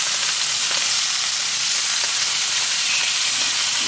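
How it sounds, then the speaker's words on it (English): Sesame-crusted ahi tuna searing in a hot pan, a loud, dense, steady sizzle with faint crackles running unbroken and close, no voices. "You want it nice and seared on both sides"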